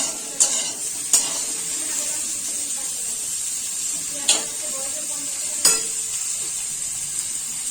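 Food fries in oil with a loud, continuous sizzle, and four sharp scraping clacks of a spatula against the pan sound at irregular intervals.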